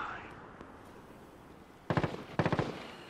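Call of Duty: Modern Warfare gunfire comes after a quiet, murmuring stretch as two short, sharp bursts of rapid shots that stand out clearly near the end.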